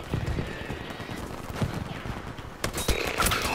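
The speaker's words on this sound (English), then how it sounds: "I'm taking fire." Incoming gunfire in the video game Battlefield V: scattered shots crackle over a busy battlefield din, with a sharper cluster of reports near the end.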